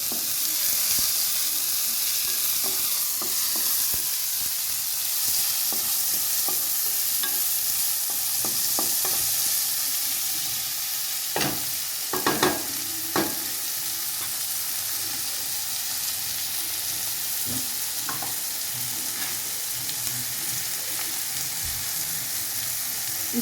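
Chopped tomatoes with ginger and garlic sizzle in a pan for a rajma gravy, with a constant frying hiss broken by scraping stirs and clinks of a spoon, close and alone without talk.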